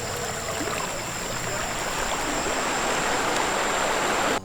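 A river runs over rocks in Sulawesi, a close, steady broadband rush of flowing water that holds constant throughout with no talking.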